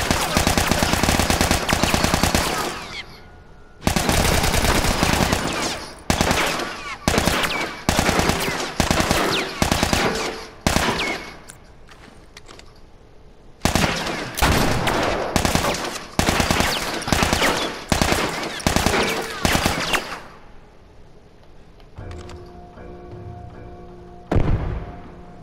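Assault rifle fire in The Last of Us Remastered: loud, rapid automatic bursts of varying length separated by brief gaps, with quieter game ambience and a reload-like clatter near the end.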